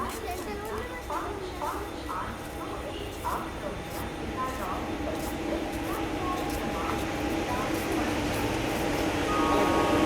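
The New Jalpaiguri Guwahati Intercity Express arriving at a station platform, a continuous rumbling train noise that builds slightly louder toward the end, with children's voices and people talking over it.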